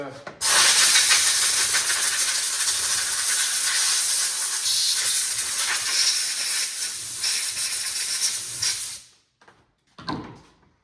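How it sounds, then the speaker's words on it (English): Brake cleaner sprays from an aerosol can onto a 1981 Honda XR80 carburetor: a loud, steady hiss lasting about nine seconds, then a couple of short bursts. "clean it off with some brake clean, the inside, the outside, the overflow, clean it out"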